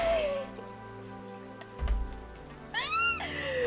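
A voice imitating a cat's meow during a casual hot-springs chat stream, with several drawn-out, rising and falling meow-like cries over a steady hiss of water in the background, close and fairly loud with no other talk.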